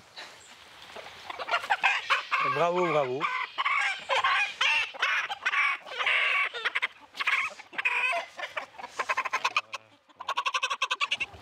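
Chickens of a blue-legged, white-feathered, red-combed breed cluck and crow loudly near a farm, with a rising and falling call early on, and brief talk and clapping-like bursts mixed in.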